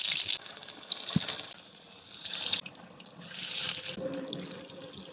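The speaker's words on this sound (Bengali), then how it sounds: "তৈলটা গরম হয়ে গেছে, এখন এই আলুগুলো তৈলের মধ্যে দিয়ে দেবো।" Potato slices for chips dropped into hot oil give a steady, hissing sizzle that swells and fades in broad waves, with one brief knock near the start and no voices.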